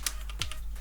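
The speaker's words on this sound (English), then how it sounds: "we're going to type sudo apt update" A command typed on a computer keyboard, a few quick close key clicks in a short burst.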